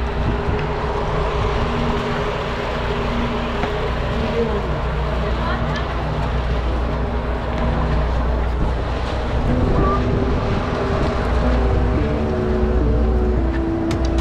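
A small boat travelling from Havelock to Neil Island, producing a loud, constant engine drone and rushing water, with heavy wind buffeting the microphone throughout and people talking under the roar.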